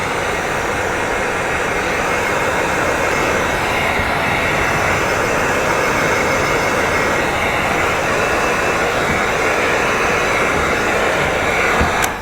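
Heat gun blowing hot air to shrink window tint film on car glass, a continuous loud, even rushing whir held steady throughout, ending with a brief click as it cuts off.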